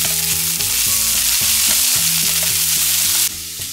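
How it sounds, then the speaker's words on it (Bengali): Chopped onions with cashews and whole spices fry steadily in hot oil, a loud continuous sizzle close by with occasional stirring, no voices. "এইদিকে পেঁয়াজ ভাজা চলছে,"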